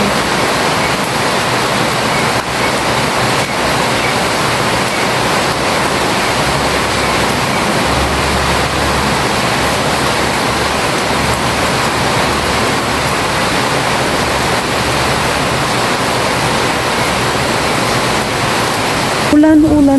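Heavy rain falls hard and constantly outdoors, a loud, even roar of dense hiss that holds steady, with a voice breaking in briefly at the very end.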